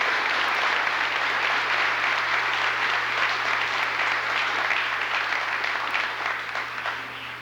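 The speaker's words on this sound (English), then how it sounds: "So would you give these people a big round of applause?" An audience at a 1990 graduation ceremony applauding the caterers, dense sustained clapping from a large crowd in a hall, steady and fairly loud, tapering slightly at the end.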